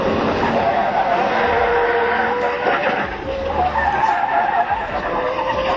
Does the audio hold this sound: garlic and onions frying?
no